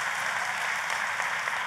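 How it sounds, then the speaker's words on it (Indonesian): A church congregation applauds together, a dense, steady wash of clapping from many hands that fills the room evenly throughout the short moment. "Kita kasih tepuk tangannya yang paling meriah buat Tuhan kita."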